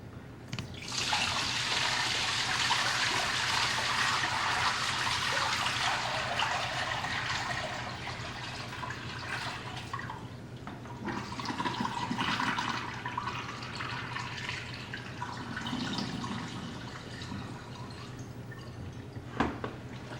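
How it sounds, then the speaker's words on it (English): A steady, close rush of soaking water pours off salted herring for nearly twenty seconds, thinning briefly midway before surging again, with no one talking. "then I'll just pour the water off here"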